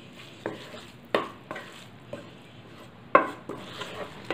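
A spoon stirs green garlic rice in a pan with the flame off, giving a series of distinct scraping clinks at irregular intervals over a faint background, close and fairly quiet.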